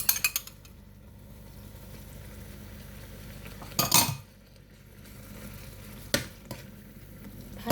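A metal spatula scrapes and clinks in a pan as fish is stir-fried with homemade pounded curry paste, a few sharp clanks over a soft sizzle.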